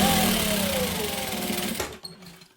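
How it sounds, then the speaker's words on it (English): A sewing machine runs a short seam-to-seam stitch, its motor whirring steadily with a slight falling pitch before cutting off abruptly, leaving a faint click and near silence. "now we can just stitch seam to seam"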